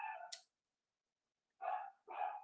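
A dog barks in a few sharp bursts, with a gap of silence before two more loud, close barks.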